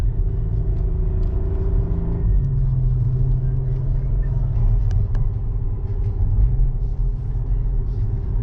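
A 2010 VW Passat R36 accelerating, heard from inside the cabin as a steady, loud low engine rumble that shifts pitch partway through and then holds a dense drone.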